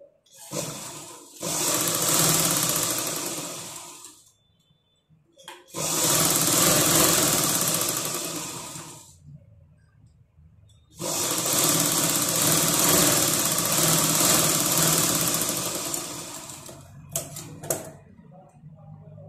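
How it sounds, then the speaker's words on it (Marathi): A sewing machine stitches a blouse seam half an inch from the edge, running in three long loud bursts with short pauses between them and a few brief clicks near the end, with no talking. "आता आपण ही 1/2 इंच सोडून टिप मारून घेणार आहोत."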